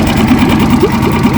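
An outboard boat motor runs close by, a loud, steady mid-pitched engine drone with a slight rhythmic pulsing and no pauses.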